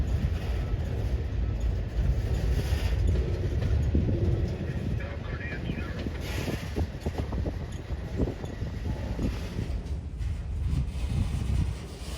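Long freight train loaded with auto racks rolling into the Elkhart yard, a continuous low rumble with rail clatter and wind buffeting, steady and fairly close throughout.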